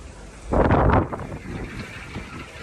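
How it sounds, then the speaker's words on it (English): Loud wind buffeting the microphone in a heavy gust, then settling into a lower, steady rumble with a few smaller gusts. "And it's windy, so apologies for the wind."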